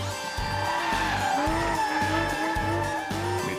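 A 2019 Porsche 911 GT3 RS with rear-wheel drive drifts, its tires squealing loudly and continuously while the engine revs in pulsing bursts nearby.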